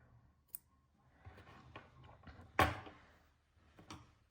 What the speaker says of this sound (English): let's cut our yarns so we can get ready to change color